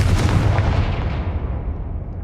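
A Confringo spell blast in Hogwarts Legacy erupts as a loud, booming explosive burst that trails off into a decaying rumble over about two seconds, with no other sounds.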